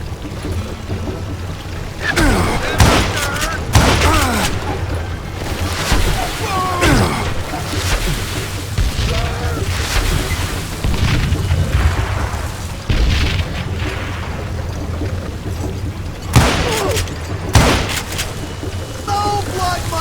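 Gunfire in the video game Call of Juarez Gunslinger, loud bursts of shots and booms scattered across a busy battle soundscape, with a voice talking in places.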